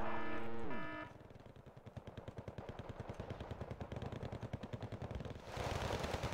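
Rapid, steady machine-gun fire from the real-time strategy game Wargame: Red Dragon, rattling continuously after a brief opening tone sequence, loud and unbroken, with a burst of noisier firing at the end; no talking.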